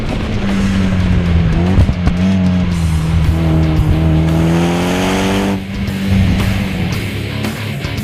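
A tuned 2013 Mitsubishi Lancer Evolution X is driven hard on a canyon road, its engine a loud, close, continuous drone that climbs and dips through the revs, with brief gear-change breaks and no talk.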